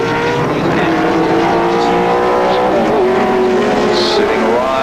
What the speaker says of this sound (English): Richards in the 31 BMW, and Johnson in the green machine, the Falcon, coming down behind Jim Richards